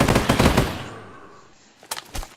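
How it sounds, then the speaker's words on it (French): An AK-47 in a Minecraft war mod fires a rapid, loud burst of close automatic shots that fades out, followed by a few separate single cracks near the end. "Il y a une AK-47."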